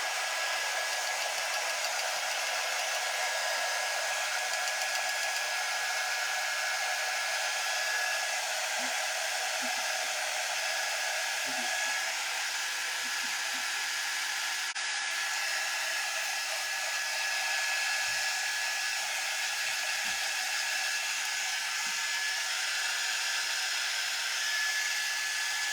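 A hair dryer blows steadily and loudly for a long stretch, drying a striped craft piece. The whoosh stays constant, with a few faint clicks and knocks underneath.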